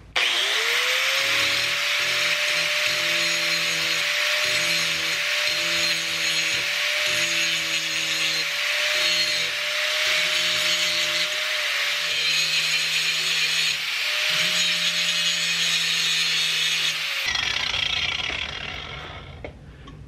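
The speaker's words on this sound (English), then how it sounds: "I just picked up this grinder, so it's gonna make it a lot easier." Angle grinder grinding down welds on a metal shield, a loud, continuous high whine with repeated passes of harsh rasping grit against the metal, heard close, then cutting off near the end.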